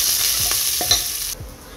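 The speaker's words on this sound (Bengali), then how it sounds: "ফোড়ন রেডি, এবারে আমি দিলে পেঁয়াজ কুচি দিয়ে দিলাম।" Chopped onion dropped into a hot spice tempering for vegetable dal hisses in a loud, bright sizzle with a few soft stirring taps, then the hiss abruptly drops away near the end.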